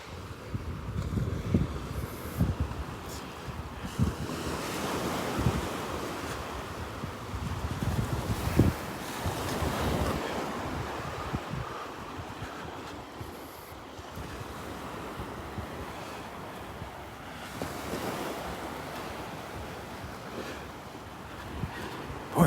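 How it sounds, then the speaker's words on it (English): Surf rolls onto the beach at Delnor-Wiggins while a cool north wind buffets the microphone, giving rough, surging gusts and wave washes that rise and fall over the whole stretch. "wind is coming out of the north again, so we got a cool breeze coming out of the north"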